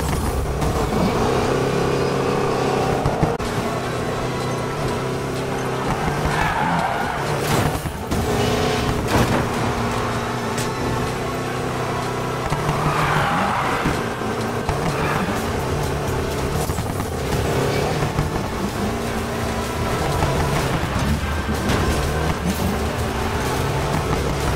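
Race cars in Need for Speed Payback roar continuously through a race, with revving and accelerating engines, scattered booming impacts and crashes, and a dense, loud mix that never lets up.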